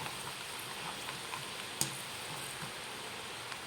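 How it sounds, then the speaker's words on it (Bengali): Peanuts fry in a pan, giving a soft, steady hiss with faint scattered crackles and one sharp click, quiet and without talk. "দেখুন বাদাম ভাজা হয়ে গেছে।"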